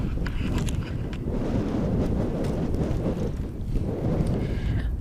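Strong wind sweeps across the hilltop at Stanage Edge before a hang-glider takeoff, roaring loudly and buffeting the microphone in continuous, rumbling gusts.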